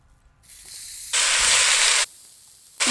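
Meat frying in olive oil in a pot: after a quiet start, a loud, bright sizzling hiss bursts out for about a second, fades to a softer simmer, then flares up again at the end.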